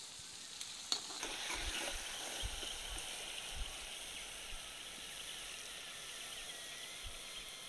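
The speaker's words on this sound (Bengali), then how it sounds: "আর একদম হালকা আঁচেই ভাজছি" Chicken-stuffed rolls fry in oil over low heat, a soft, even sizzle with a faint bubbling hiss, close and fairly quiet, with a few light knocks early on and no talking.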